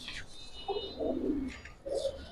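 A pair of chuital pigeons for sale coo in soft, low, repeated bursts close by, with faint higher chirps in between.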